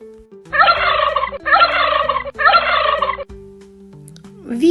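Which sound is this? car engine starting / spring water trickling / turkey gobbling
turkey gobbling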